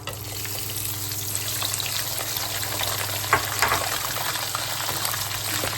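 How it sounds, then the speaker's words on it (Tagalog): Chicharon bulaklak deep-frying in hot used cooking oil, a steady close sizzle and bubbling that runs without a break, with a couple of brief louder crackles partway through. "Pirito na po natin ang ating chicharon."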